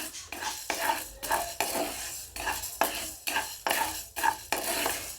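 Sorghum grains are stirred in a dry hot pan to pop them like popcorn, the spoon scraping in a steady rhythm of about eight sweeping strokes with a faint sizzle beneath, close and clear with no talking.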